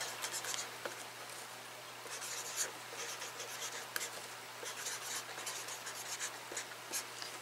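A marker squeaks and scratches across a plastic plant label for a variegated Burle Marx, short irregular strokes heard close and quiet with no talk.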